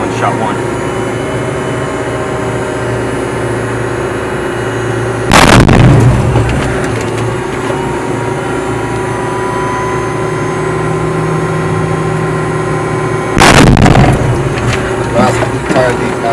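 Machine guns fire in two loud bursts during live-fire training by New York National Guard and Moroccan soldiers in Morocco, with a steady engine or generator drone running beneath between the bursts.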